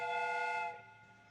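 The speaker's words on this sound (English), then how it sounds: "The steam whistle is ready to be used." A steam whistle on a replica train gives a single steady, tonal blast that cuts off after a moment and fades into quiet. It sounds fairly faint and distant.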